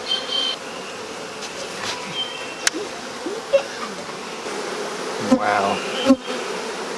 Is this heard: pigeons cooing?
no